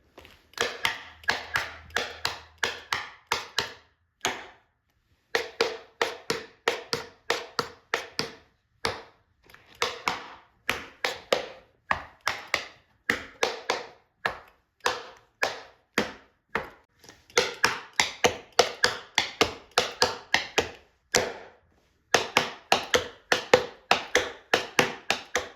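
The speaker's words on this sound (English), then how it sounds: "I have 2 different types of tap shoes on. They're both just regular tap shoes." Regular tap shoes, one built up and one not, strike a hard floor in quick rhythmic clusters of sharp metallic taps, close and clear, with brief pauses between phrases.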